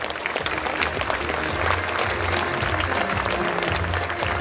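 Sustained applause from the audience at a local sports gala honouring athletes, steady and dense clapping across the whole stretch with no speech over it.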